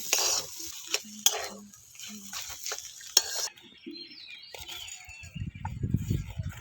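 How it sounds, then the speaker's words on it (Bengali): A spoon stirs and scrapes a potato filling mixed with chopped coriander in a pan for spring rolls, giving a run of quiet clinks and scrapes followed by softer shuffling. "এবার এর মধ্যে আমি দিয়ে দিচ্ছি ধনে পাতা কুচো এবারে একটু নাড়াচাড়া করে আমি এই পুরটা নামিয়ে নেব"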